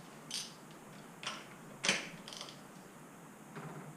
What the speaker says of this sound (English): You do need a rear cassette tool that fits down in there.